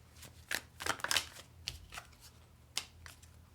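Tarot cards shuffled by hand, a series of quick papery riffles and soft slaps arriving in uneven bursts, close and quiet, with short pauses between, no voices.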